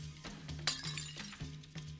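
A glass drops and shatters during an ab workout, one sharp bright crash with a scatter of tinkling fragments, moderately near over a low steady hum and repeating thumps.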